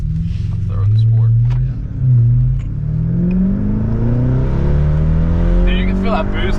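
A Duramax diesel truck engine revs under boost with a manual gearbox, rising and falling in loud, steady pulls close by, with people talking over it.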